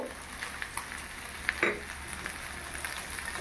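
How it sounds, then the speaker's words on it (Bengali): A spice mixture of salt, chopped green chilli, turmeric and cumin powder fries in a pan with a soft, steady sizzle, broken by a few sharp scrapes and clicks of stirring, near and fairly quiet, with no talking. "এইভাবে নেড়ে চেড়ে আমি মশলাটা তৈরি করে নেব"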